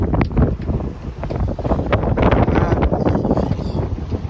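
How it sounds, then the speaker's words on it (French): Strong, steady wind buffets the microphone while a boat sails close-hauled in a regular 12-knot breeze off the French coast, a loud continuous roar with gusty fluctuations and water noise beneath. "le vent est régulier, 12 nœuds."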